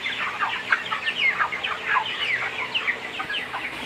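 Thirty-day-old broiler chickens on a farm clucking and chirping in a dense flock, with overlapping short calls repeating throughout at close range and moderate loudness.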